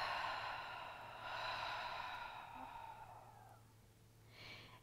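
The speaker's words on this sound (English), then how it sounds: "Exhale." A slow, deep exhale of breath, long and airy, trailing off over several seconds before a fresh soft breath begins, close and quiet in a calm room.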